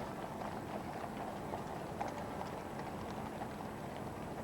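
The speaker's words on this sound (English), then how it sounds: "Queen Alexandra state coach is drawn by 4 bay horses with 2 outriders" Hooves of four bay horses drawing the Queen Alexandra state coach with two outriders at the State Opening of Parliament, a steady distant clatter blended into broad outdoor crowd and street noise.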